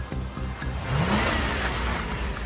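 A car speeds away, its mid-pitched engine revving up and rising in a short burst before settling into a steady whir as it pulls off.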